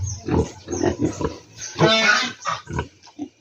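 Pigs on a farm, freshly woken from a midday nap after feeding and bathing, grunt and oink in a run of short, close, loud snorts with a brief squealing burst in the middle.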